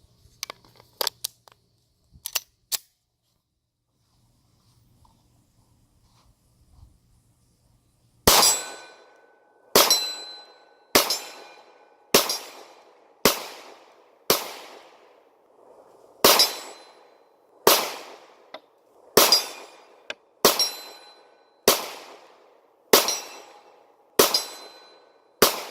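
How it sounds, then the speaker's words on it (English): A Ruger 9mm pistol fires 124 grain reloads at steel targets outdoors, with a few scattered sharp reports and a pause, then a steady string of loud, evenly spaced shots with ringing clangs. "I've got a full magazine of my 124 grain reloads."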